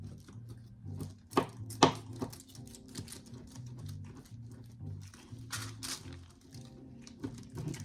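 A few sharp knife chops cut through wax on a hard surface amid quiet clatter and a low background hum, moderately close.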